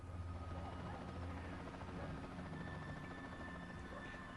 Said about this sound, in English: keep on hearing this helicopter, but I don't know where it's at.